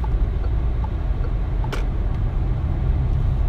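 Steady low cabin rumble from a Peugeot 2008 GT's 1.5 diesel engine while driving, a muted, continuous drone with a brief faint click partway through.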